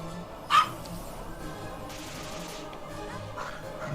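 A dog gives one short, sharp bark near the start, then quiet room noise follows.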